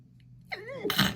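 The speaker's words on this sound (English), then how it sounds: "I sneezed again." A single sneeze bursts out after a brief sharp intake of breath, close and fairly loud, with a faint low hum underneath.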